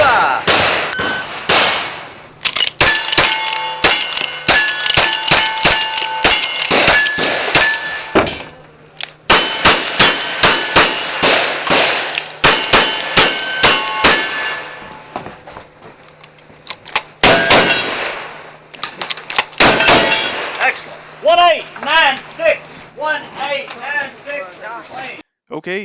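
Rifle shots at a state championship AR match ringing off steel targets in quick pairs and strings, each crack followed by a sharp metallic clang, loud and close, with a pause and then a final fast burst.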